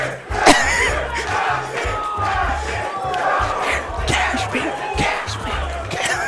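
A large crowd at a Super Smash Bros. Wii U tournament cheers and roars continuously, loud and close, with scattered shouts rising above the din.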